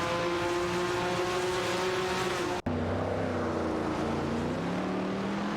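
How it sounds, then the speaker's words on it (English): Racing video game with the De Tomaso Pantera GTS 72 and TVR Griffith 200 battling for position, sustained engine drone with shifting pitch, loud and continuous, broken by one brief dropout midway. "The De Tomaso Pantera GTS 72 is holding its ground against the TVR Griffith 200 in this intense battle for 14th place."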